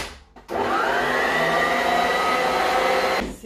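An electric mixer whirs steadily as it beats butter, vegetable shortening and salt for buttercream, starting abruptly after a brief quiet moment, holding a loud even motor drone, then cutting off.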